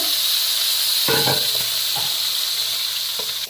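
Pangas fish pieces fry in hot oil in a wok, a constant loud hissing sizzle with a few soft clunks and bubbling pops, close up and without speech.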